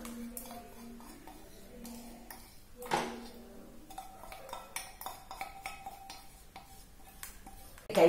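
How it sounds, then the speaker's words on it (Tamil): A spoon scrapes and clinks against a pot while thick urad dal flour batter is stirred on the stove, with irregular soft taps and one louder knock, quiet and close. "கைவிடாம அப்படி கிளறிட்டே இருங்க,"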